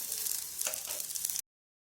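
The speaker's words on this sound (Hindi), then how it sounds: "इसमें ही प्याज डाल दें और प्याज को भी अच्छी तरह से हमें भूनना है" Onion frying with green chilli and garlic in a pan for momo stuffing, a faint sizzling hiss for just over a second before cutting off.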